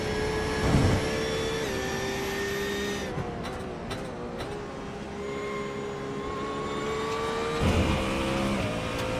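Porsche race car engine in the iRacing sim at Road America, a steady high-pitched whine with sustained harmonic tones, shifting pitch mid-run and briefly rising near the end, loud and continuous without talk.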